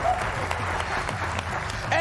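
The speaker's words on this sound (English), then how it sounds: "Applause." A studio audience at a late-night comedy show applauding in a short steady burst, with a voice speaking over the clapping.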